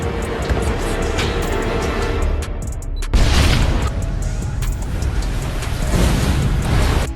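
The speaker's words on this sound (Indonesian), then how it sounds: "Ketika mereka melihat pergerakannya Santi, langsung saja diledakkan pabrik tersebut." A factory blown up with many bombs in a film produces a loud, rumbling explosion. A heavy low roar builds into a sharper blast at about three seconds, then continues as sustained crashing rumble.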